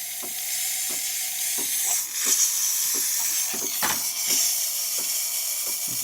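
Continuous loud hiss of pressurized steam from a DeLonghi coffee machine steam wand, with faint clicks and small spurts, steady throughout.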